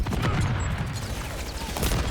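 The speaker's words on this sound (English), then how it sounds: "Fucking explosions everywhere" Loud, dense combat in Call of Duty: Modern Warfare III (2023) multiplayer: booming blasts and bursts of gunfire pile up continuously with no real pause.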